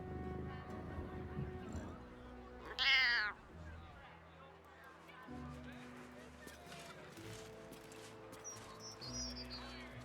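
A cat in Baldur's Gate 3 gives a single short rising meow, sharp and clear, between stretches of game music and ambience, with a low murmur of voices around it.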